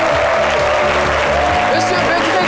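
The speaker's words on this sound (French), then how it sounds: "que je vous demande d'applaudir très très fort" Studio audience clapping for a guest on a television talk show set, a loud clatter mixed under music and a speaking voice.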